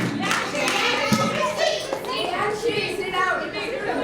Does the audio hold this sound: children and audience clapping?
yes